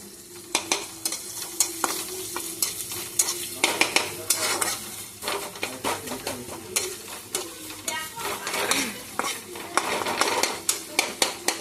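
Chopped onion fries in a pan for a samosa filling, crackling steadily while a spoon stirs and scrapes with frequent sharp knocks against the metal, close by and lively throughout.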